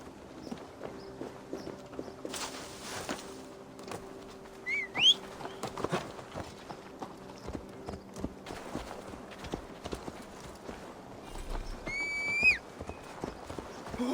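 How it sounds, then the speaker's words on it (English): Horse hooves clip-clop steadily at a walk through a video-game town, soft and moderately close, with occasional bird chirps and pigeon coos around them. "Pardon me, folks. Coming through town. Clippity clop."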